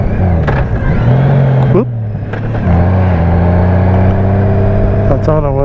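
A new Chevrolet Corvette's engine revs and pulls hard through the gears, pitch climbing and dropping between shifts, loud and close inside the car, with a brief exclaimed word from an occupant.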